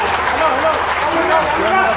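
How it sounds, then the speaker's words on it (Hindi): Sustained, dense applause from a large audience at an official event with the chief minister, continuous and loud with voices mixed in. "जोरदार तालियां लगातार बजती रहे।"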